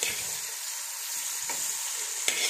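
Dried fish frying in a pan, an even, close hiss of hot oil that runs throughout with a couple of small sharp crackles.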